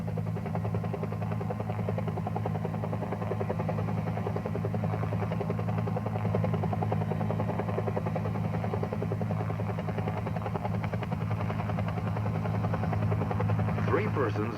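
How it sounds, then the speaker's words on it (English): A Huey helicopter hovers over treetops, its rotor a steady, low, pulsing drone that holds even throughout, with someone narrating over it. "Use the treetops to conceal your aircraft while hovering."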